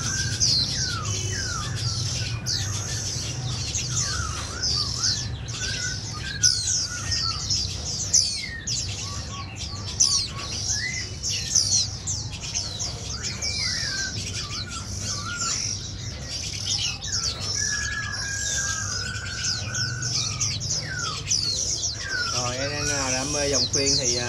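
White-eye songbirds chirp continuously with bright, busy calls and short trills from several nearby birds, over a steady low background hum; no one speaks.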